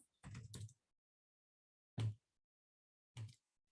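Short bursts of typing on a computer keyboard, a quick cluster of clicks followed by two isolated key presses, close and quiet against silence.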